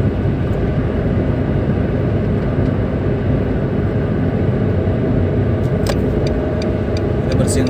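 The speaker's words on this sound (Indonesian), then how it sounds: "Oke, ini suara angin masuk." Steady broadband rush of wind pouring into the cabin of a Nissan March L 1.2 manual driving on a toll road, loud and continuous over a low road drone, with a few faint ticks near the end.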